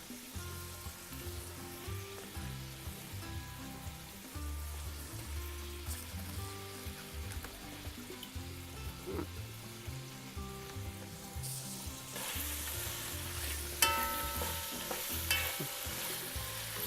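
Pork chops sauté in a pan on medium-high heat, giving a steady close sizzle and frying crackle with occasional stirring scrapes, louder toward the end.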